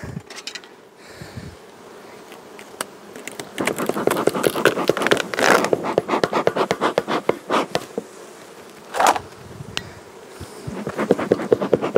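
Carniolan-line honeybees hum loudly around an opened hive that is heavy with propolis, a dense, wavering drone of many wings close by, punctuated by knocks and scrapes from handling the frames.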